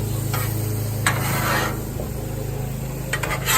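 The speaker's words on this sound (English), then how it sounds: "So you may just want to try and move that in and move it around as much as you can." Chicken for fajitas sizzles steadily on a 36-inch Blackstone griddle, with a constant frying hiss and occasional scraping as a spatula moves the pieces around, close and loud with no talk.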